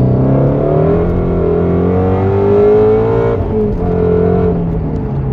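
A Ford Shelby GT350 accelerating hard on a cold road, its engine note climbing steadily in loud, close, continuous revs with a brief shift dip partway through, heard alone.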